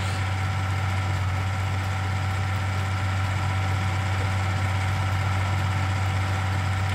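A tractor engine idles steadily in Farming Simulator 19, a constant low mechanical hum with an even drone. It runs unchanged for several seconds and no one speaks.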